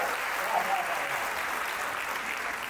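A crowd at a Mahavir Jayanti poetry gathering claps in steady, even applause that holds at a constant level throughout, with a voice faintly present underneath.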